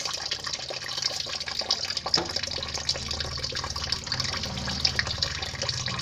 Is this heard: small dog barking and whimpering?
no